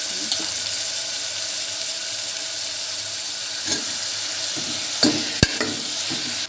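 Brinjal pieces with a pinch of turmeric frying in a pan, a steady close hiss of sizzling oil broken by a few sharp clicks and scrapes of stirring, with no talk.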